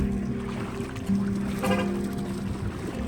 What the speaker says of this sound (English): launching the boat